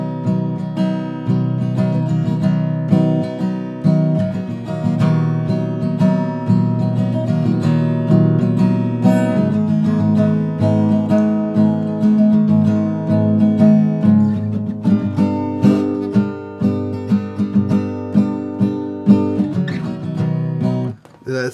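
An acoustic guitar plays a song, a driving, steady strummed pattern with ringing chords and a repeating rhythm, close and full throughout with no voice.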